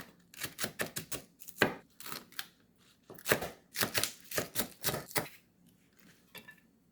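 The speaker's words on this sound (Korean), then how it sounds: "대파는 이렇게 팬으로 톡톡 썰어줍니다." A knife chops green onion (daepa), white and green parts, on a board, producing crisp, close taps in quick irregular runs, a short pause, then another burst of rapid strokes that thins into a few lighter cuts at the end.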